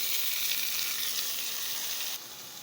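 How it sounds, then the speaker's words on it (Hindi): Ginger garlic paste and tomato frying with browned onions, a continuous bright hiss of sizzling oil that drops slightly in level near the end, with no voices. "अब मैं डालूंगी अदरक लहसुन का पेस्ट और ये मैं डालूंगी टमाटर।"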